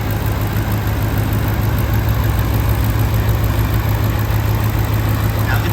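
A 2010 Ford with a dirty throttle body sits at a rough idle, its engine giving a steady, loud low hum with constant vibration and no other sounds.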